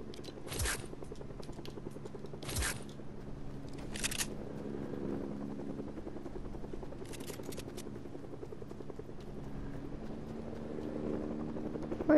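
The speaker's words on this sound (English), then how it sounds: "Heli." A helicopter flying overhead, a low steady rotor drone running through the whole stretch at moderate distance, broken by a few sharp clicking and scraping bursts nearby.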